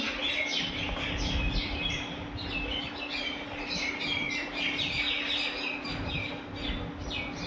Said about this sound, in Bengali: পাখির আওয়াজ শুনতে পাচ্ছ?